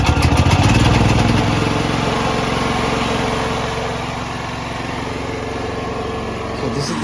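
Home backup generator engine starting on choke, a loud rough small-engine clatter at first that settles into a steadier, slightly quieter running drone, heard up close without talk.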